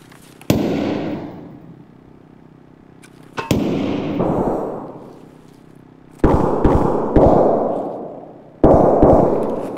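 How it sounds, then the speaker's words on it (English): Gunfire from a firefight in the shooter Escape from Tarkov: isolated loud cracks spaced seconds apart, each trailing off in a long echoing decay, with a pair of shots near the end. "There's fighting going on above us."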